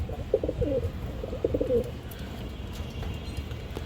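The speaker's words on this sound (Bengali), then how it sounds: "সবুজ গলা কবুতর খুবই সুন্দর কবুতর" Green-necked pigeons at a pigeon farm coo in soft, repeated bursts, a few close calls in the first two seconds before fading into background hum.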